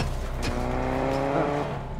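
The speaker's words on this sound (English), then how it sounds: "Yeah, the cars are loud." Cars in Fortnite drive with a loud, steady engine drone and a rising whine, a brief tire squeal near the start, close and continuous with no talk over it.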